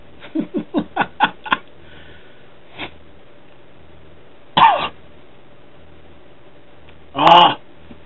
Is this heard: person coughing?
yes